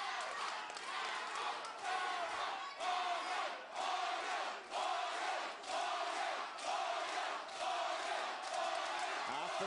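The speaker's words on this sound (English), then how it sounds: "crowd sprung into a Carroll chant and the Hogan supporters were not to be outdone" A boxing crowd at a Queensland middleweight title fight loudly chants a fighter's name, the dense roar of voices rising and dipping in a steady rhythm with a few sharp breaks between chants.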